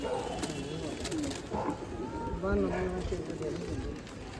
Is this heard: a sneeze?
no